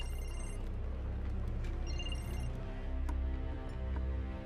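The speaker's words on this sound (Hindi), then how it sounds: "फोन आ रहा है तुम्हारा।" A telephone rings in a quiet indoor room, a faint, repeating electronic tone heard alone with no talking.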